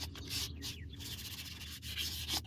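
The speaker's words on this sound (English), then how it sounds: "I'll do a little more wet sanding to knock off the fuzz" Close, steady rasping of sandpaper wet sanding a 2000 Buell M2 motorcycle's metal muffler, a brief continuous scrubbing with no talk.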